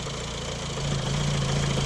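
Engine of a 2022 Hyundai Staria with 55,000 mileage running with a knocking fault, a steady close idle hum with a low drone that grows slightly louder partway through, no talking.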